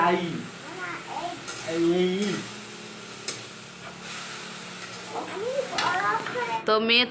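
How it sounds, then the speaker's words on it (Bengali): Chickpea curry cooks in a pan, giving a soft, steady sizzle under a child's chatter and an adult voice talking nearby. "আর এখানে আমি রান্না করছি ছোলার তরকারিটা"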